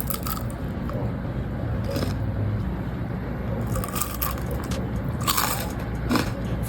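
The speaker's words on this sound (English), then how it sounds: "Look at this crunchy pizza snack." Someone bites into a crunchy pizza snack made from pastry dough, tomato sauce, Parmesan and oregano, giving close, repeated crisp crunches and crackles over steady chewing.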